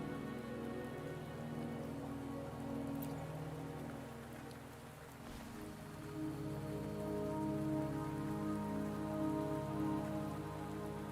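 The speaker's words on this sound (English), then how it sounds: "Don't worry, the rain won't last much longer." Video game rain in Wuthering Waves falling on a surface, a dense continuous patter over a low ambient drone, with a brief faint rumble midway.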